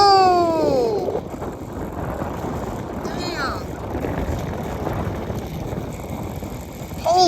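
Strong wind gust roars across an outdoor microphone as a homemade wind turbine fan spins up to about 2,900 RPM, its whine sweeping upward in pitch near the start and end, with a man's exclamation over the rushing air.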